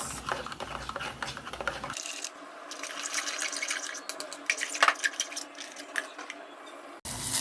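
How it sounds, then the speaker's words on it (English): Coconut milk pours into a cooking pot with a steady liquid splashing and trickling sound, loud at first and then a softer, hissing fill with small drips and clinks, close by. "Now I'm gonna add my coconut milk and allow that to boil"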